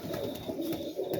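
Pigeons coo inside a loft in the late day, soft repeated throaty calls overlapping in a low murmur, close and fairly quiet.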